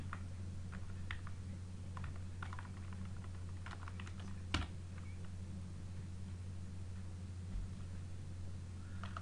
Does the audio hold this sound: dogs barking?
no